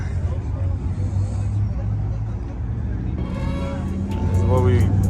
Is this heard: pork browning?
no